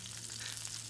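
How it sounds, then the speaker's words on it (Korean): Beef stir-frying in a hot pan gives off a steady, dense sizzle with faint crackles, heard close and continuous for under a second without any voices. "소고기가 맛있게 볶아지는 소리입니다."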